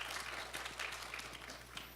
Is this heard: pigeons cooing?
no